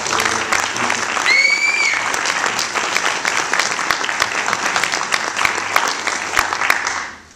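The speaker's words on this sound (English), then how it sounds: "we all should give Alan Blair Beaton a round of applause" Sustained audience applause at a What's Next 2011 conference in Cardiff, dense and steady for about seven seconds before tapering off, with a brief whistle-like tone early on.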